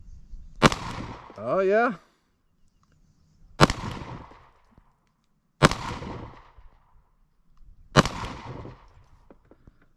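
Four sharp rifle gunshots ring out at a shooting range, evenly spaced about two to three seconds apart, each a loud crack with a short decaying tail; someone speaks briefly between the first two shots.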